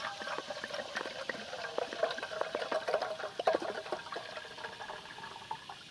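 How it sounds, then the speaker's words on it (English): Water pouring into a kettle beside a campfire, a steady splashing trickle with irregular droplet clicks, close and moderately quiet throughout. "let's fill this up with water so that we can get this on the fire"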